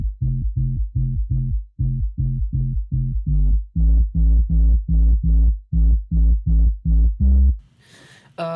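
A simple sub bass from the Massive synthesizer pulses in a steady, loud rhythm of deep repeated notes, rising slightly midway, then giving way to a brief noisy sweep at the end.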